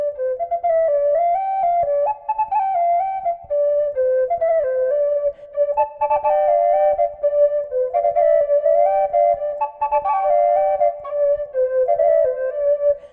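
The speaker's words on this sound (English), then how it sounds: "This acts as a drone and plays a single note alongside the melody which you play on this whistle." A Carbony carbon fibre double whistle with ebonite tips plays a melody on one pipe over a steady sustained drone note from the other, clear, close and continuous with brief breaths between phrases.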